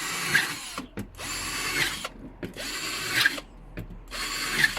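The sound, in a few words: drilling holes in plastic bucket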